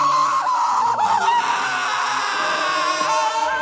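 A drawn-out, shrill anime character scream from the English dub of Attack on Titan plays loud and continuous, wavering in pitch with a strained, squawking, almost bird-like quality throughout.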